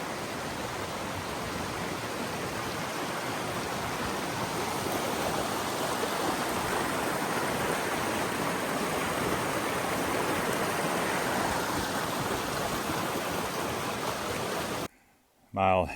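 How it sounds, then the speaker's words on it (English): Thoreau Falls on the Appalachian Trail: a waterfall and stream roaring in a steady, broadband rush, close and continuous for most of the clip before briefly cutting out near the end. "Thoreau Falls"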